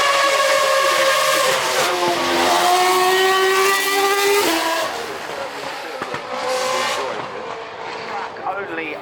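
Race cars, among them a 2012 Alpine, drive up the Goodwood Festival of Speed hill climb, with loud, high engines climbing through gears and rising in pitch as they pass close by, then fading, while a commentator talks over them.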